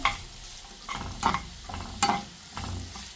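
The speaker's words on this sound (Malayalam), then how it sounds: "നമുക്ക് കുറച്ച് ഉള്ളിയൊക്കെ വാട്ടിയെടുക്കാനുണ്ട്" Two sliced large onions being sautéed in a pan, with rhythmic stir-scrapes roughly every half second over a light frying sizzle, close and clear, no voices.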